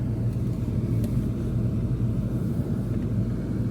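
A car cruising through Roi Et city, heard from inside as a steady low engine and road rumble throughout, constant and fairly loud, with no talking.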